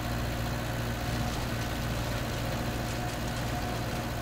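A tractor engine in the video game Farming Simulator 19 hums at a steady low drone as the tractor pulls away from its trailer, continuous and moderately loud with no talking.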